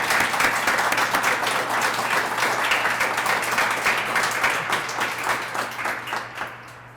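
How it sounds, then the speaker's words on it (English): An audience at a Montana statehood centennial Bell Award ceremony claps steadily for an honored teacher. The dense applause runs loud for several seconds, then thins and tapers toward the end. "give her one more round of applause"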